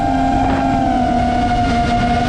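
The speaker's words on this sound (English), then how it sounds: "And FPV drones, when you stick a GoPro on the top of them, the sound on that just sounds like this." Steady, high-pitched whine of an FPV drone's motors captured by a GoPro mounted on top, continuous and loud, with sustained tonal buzzing and no voices.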